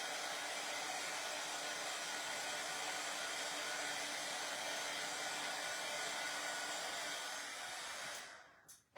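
A hair dryer blows steadily on a patriotic decor piece for about eight seconds, giving an even, close whooshing roar before it cuts off at the end.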